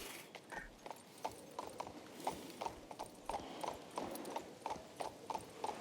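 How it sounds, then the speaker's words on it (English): A horse's hooves clip-clop at a steady, even trot in the fantasy game King's Bounty II, quiet and rhythmic with no other sounds over them. "Now, the horse doesn't run any faster than this"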